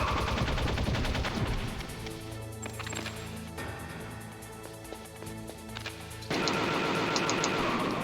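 Rapid gunfire in the video game Metal Gear Solid Integral on PC during a fight against oncoming guards: dense, loud bursts of shots at the start and again at the end, with a steadier stretch of game sound between.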